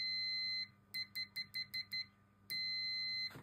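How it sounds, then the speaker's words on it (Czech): A VEVOR clamp meter's continuity beeper sounds a long electronic tone, then six quick short beeps, then another sustained tone, bright, close and alone. "Zkusíme tady například pípák. Jo, pípák vlastně nám měří okruh."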